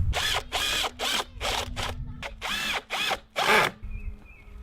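Power drill driving screws through a scrap board into a stair stringer, a series of short, loud bursts of whirring in quick succession, each stopping abruptly, heard close with no voices.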